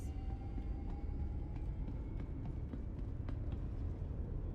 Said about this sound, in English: Capsule now approaching station momentarily. Stand clear of disembarking passengers.